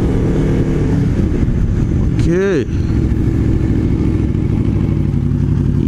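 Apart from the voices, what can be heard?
Aprilia RSV4 motorcycle engine revving while riding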